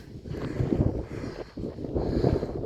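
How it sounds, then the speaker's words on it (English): Gusty wind buffets a microphone on a mountain top near Red Rocks, a low rumbling rush that swells and dips, fairly faint with no voices. "Sorry about the wind sound."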